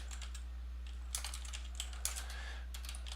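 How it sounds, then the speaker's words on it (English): Quiet computer keyboard typing, a short burst of soft clicks with a few sharper keystrokes over a steady low electrical hum, heard alone without speech. "I'm going to type this in here."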